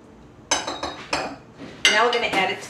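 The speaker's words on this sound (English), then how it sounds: "And then give it a whisk." Gelatin mixture whisked in a bowl, a handful of sharp metallic clinks and scraping strokes in uneven bursts, close and loud, with no speech.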